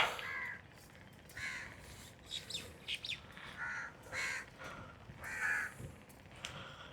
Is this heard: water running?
no